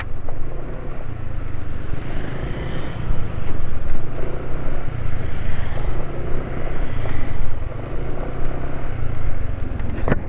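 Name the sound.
engine running smoothly after oil change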